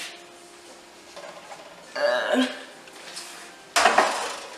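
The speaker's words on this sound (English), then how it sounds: "let me get rid of this pan" A metal cooking pan clanks as it is picked up and set aside in a home kitchen after chicken wings are plated, two distinct knocks with quieter shuffling in between.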